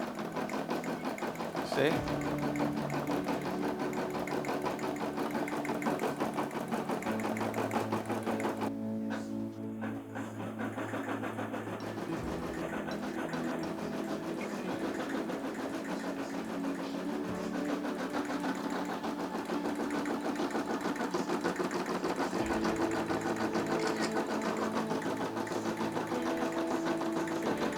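A Brother SE600 embroidery machine stitches a logo, its steady rapid needle chatter running close and continuous throughout, with a brief pause and a few beeps midway and a voice speaking briefly.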